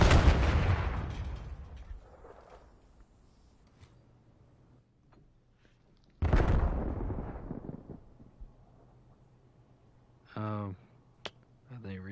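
Gunfire in a Call of Duty match comes as two sharp, loud bursts several seconds apart, each trailing off, with faint game sound between them and a brief voice near the end.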